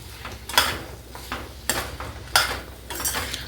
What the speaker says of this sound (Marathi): इथे मी दोन तीन वांगे एक बटाटा आणि हा वाटाणा टाकून घेते आणि छान हलवून घेते